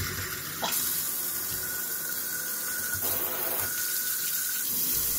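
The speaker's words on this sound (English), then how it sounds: "Then turn on the water, check for leaks, and test out your brand new WeWe." Water pours steadily from a newly installed kitchen faucet into the sink, a constant close hiss and splash that briefly changes in tone a few times as the flow shifts.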